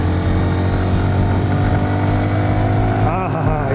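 A Hero Xtreme 125R motorcycle engine runs loud and close with a steady, buzzing drone and a slight rise in pitch as the bike gathers speed on a rural road ride.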